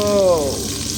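Garlic dropped into hot oil gives a sudden loud, bubbling sizzle that sweeps downward in pitch and settles into a steady hiss within a second.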